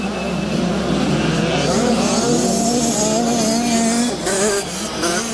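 Engine of an 85cc motocross bike accelerating on a dirt race track, a steady loud buzzing drone with rising and falling pitch as the rider gets back on the gas.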